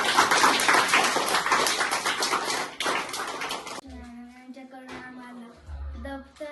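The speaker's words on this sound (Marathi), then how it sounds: "सगळ्यांनी टाळ्या वाजून मॅडमचं धन्यवाद करा" Children applaud together at a Namaste Nashik Foundation event held on the eve of Ganesh Chaturthi: a dense, steady burst of clapping for about four seconds that stops abruptly, followed by quieter voices and background sounds.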